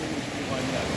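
A mountain waterfall of cold, clear water makes a constant close rush of splashing, falling water, steady and dense for a brief moment, with a voice talking over it.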